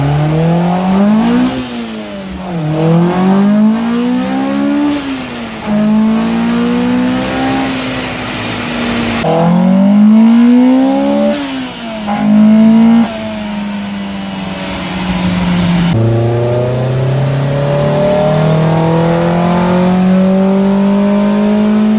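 Car engine on a dyno revving hard up to 8,500 RPM in several loud, rising pulls with brief drops between gear changes, close and unaccompanied by speech.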